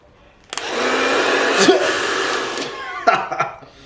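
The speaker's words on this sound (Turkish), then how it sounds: "Şu an fön makinesi burada." A hair dryer blows steadily at close range for a few seconds, then cuts off, followed by brief rustling and short bursts of noise.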